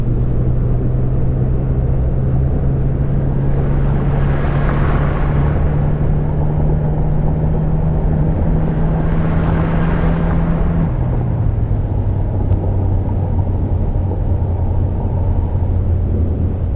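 Steady low bus engine drone in the video game Fernbus Coach Simulator, a constant hum that drops slightly in pitch partway through, with two swells of passing noise.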